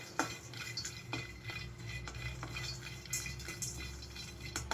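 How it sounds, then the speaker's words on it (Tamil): Pistachios roasting in a pan over high flame are stirred with a utensil, giving soft repeated scraping and light metallic clinks at an irregular pace, faint and close with no talking. "ஸோ நல்லா கிண்டி விட்டுட்டே இருக்கணும் மக்களே"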